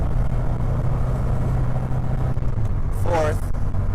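A 1963 Alfa Romeo Giulietta T.I. drives in third gear with a steady low engine drone from the cabin, and a short rising whine or squeak breaks through near the end.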